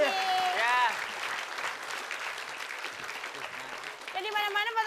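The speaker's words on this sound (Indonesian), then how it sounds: "tepuk tangan untuk Pak Jojo, Pak Fani dan Pak Polo." A crowd claps steadily, applause filling the whole stretch, with a loud voice speaking over it at the start and again near the end.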